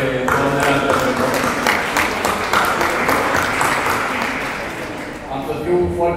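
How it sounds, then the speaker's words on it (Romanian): Applause fills a gala hall for women entrepreneurs, a dense sustained clapping from a sizeable crowd that thins slightly near the end before swelling again. "Deci să le aplaudăm pe doamnele antreprenor."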